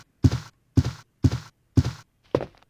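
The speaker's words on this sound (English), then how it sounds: "Could hear more footsteps, like someone walking on a hardwood floor" Four steady, heavy footfalls on hardwood in Resident Evil 2, close and evenly paced, followed after a slight pause by a lighter, sharper fifth step, with no voices around them.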